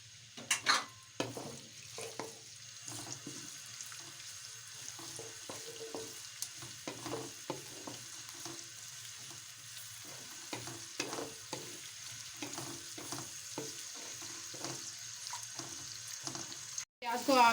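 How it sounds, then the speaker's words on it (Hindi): Onions fry in ghee in a kadhai, giving a faint, continuous sizzle broken by scattered clicks and scrapes of stirring, heard close in a quiet kitchen. "अब इसके अंदर प्याज डालते हैं।"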